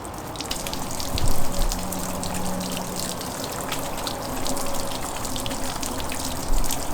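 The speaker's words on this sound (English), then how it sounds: "I took my 800 gallon per hour pump out. This is 400 gallons per hour." A backyard water feature driven by a 400 gallon per hour pump, giving a continuous close trickle and splash of falling water with small surges and no talk.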